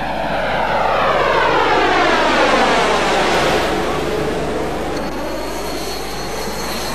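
A SEPECAT Jaguar jet aircraft lands, a loud continuous roar that sweeps downward as it passes close by, then eases into a steady rumble.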